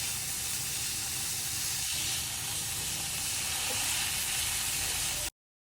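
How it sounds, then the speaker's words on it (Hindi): Grated carrots and raisins fry in a pan for Kabuli pulao, a steady close hiss of sizzling oil that runs unbroken, then cuts off abruptly into silence. "मेरी किशमिश और गाजर अच्छी तरीके से फ्राई हो गई हैं"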